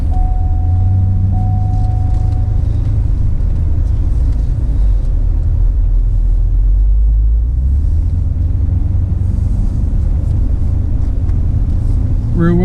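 Steady low engine drone and road rumble from a rear-wheel-drive Cadillac CTS-V cruising, continuous throughout with a faint tone early on; voices talk over it.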